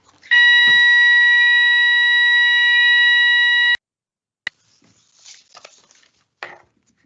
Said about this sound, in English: that was the fire alarm going off.